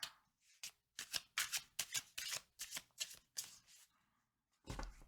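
A deck of tarot cards is shuffled by hand in a series of quick riffling, papery bursts, close and soft, then a pause and a final shuffle near the end.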